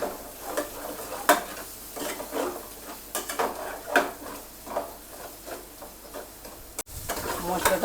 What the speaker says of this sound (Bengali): মশলাটা আমি দিয়ে 2 মিনিট কষিয়ে নিলাম।